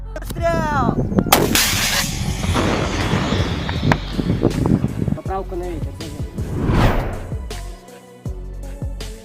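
An RPG anti-tank weapon fires, producing loud, close, booming blasts with a rumbling aftermath and several sharp bangs layered over each other.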